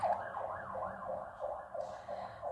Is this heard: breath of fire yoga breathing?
no